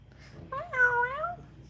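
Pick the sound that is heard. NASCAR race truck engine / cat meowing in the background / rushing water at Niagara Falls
cat meowing in the background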